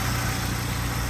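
A 2001 Saab 9-3 Turbo convertible engine idles steadily and smoothly with fresh NSK spark plugs, a close, even low hum and vibration with no voices.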